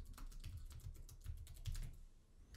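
Typing on a computer keyboard while entering a task in CRM software, a quick burst of close, crisp key clicks that taper off near the end, with no speech.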